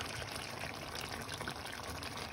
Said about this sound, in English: Now we are adding some yogurt.